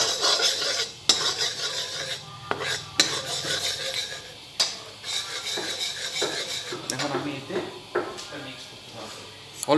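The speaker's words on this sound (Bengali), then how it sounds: "এখন আমি নাড়াতে পারবো, এটাকে ভালো করে মিক্স করে দেবো।" A sweet yogurt mixture being stirred in a pot, with a utensil scraping and clinking against the metal in irregular strokes close by, some louder knocks mixed in, and background talk throughout.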